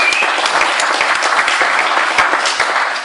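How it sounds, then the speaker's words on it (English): Dense, steady applause from a speech audience, many hands clapping at once in a continuous loud wash with no pauses. "Yeah, we keep on clapping."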